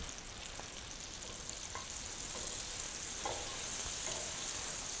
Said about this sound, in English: Listen closely. This sizzle is important to prevent sticking.